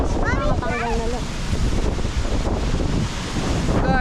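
Steady, strong wind at Bulabog Beach, Boracay, buffeting the microphone by the shore, with a broad rushing roar throughout and a few brief voice-like tones near the start and end.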